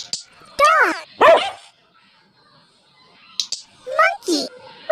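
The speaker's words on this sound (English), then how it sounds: "Dog." A dog barks in two sharp, yappy bursts close by, then again in a quick pair after a pause, clear and loud over a quiet background.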